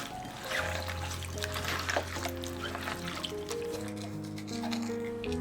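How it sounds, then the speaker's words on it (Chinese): Hands squeeze scallion and ginger slices in a little water in a bowl, giving soft wet trickles and drips over a low steady hum, faint and close. "加少量清水，用手抓捏出葱姜汁"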